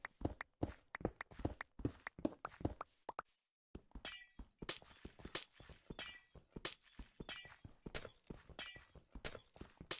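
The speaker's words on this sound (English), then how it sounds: "Turning down the glass noise was one of the best things I ever did." Repeated sharp glass-shattering crashes from blocks being broken in the Minecraft video game, a rapid irregular series of close, crisp breaks with a short pause near the middle, no talking.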